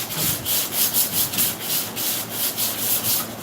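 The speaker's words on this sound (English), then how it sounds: "You probably can't hear what I'm saying because I'm sanding" Steady hand sanding of the plastic case of a Lasko box fan, a rhythmic rasping scrape repeating back and forth, close and continuous with no talking.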